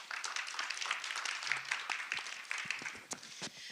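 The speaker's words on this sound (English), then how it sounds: "Can we give him a round of applause?" Scattered applause at a university panel event, a modest group clapping fairly quietly with uneven individual claps that thin out toward the end.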